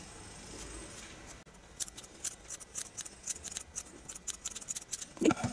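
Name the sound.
scissors trimming yarn pom pom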